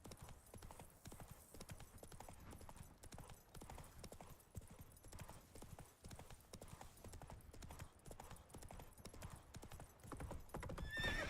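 Roach the horse gallops in The Witcher 3, rapid hoofbeats clip-clopping in a steady driving rhythm throughout, quiet and close, with a brief neigh near the end.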